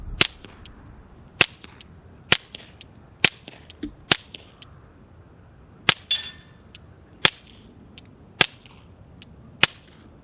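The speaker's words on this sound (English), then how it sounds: "The Dead Air mask on our Ruger Mark IV Light with some standard velocity ammunition." Suppressed shots from a Ruger Mark IV Light pistol fitted with a Dead Air Mask HD silencer, firing Aguila standard velocity ammunition: about ten sharp, clean cracks spaced roughly a second apart, near and loud, with no talk.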